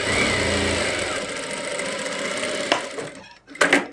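A sewing machine stitches a folded fabric hem on an Afghani salwar, giving a steady mid-pitched mechanical whir that runs continuously, then stops, with a brief clatter after a pause.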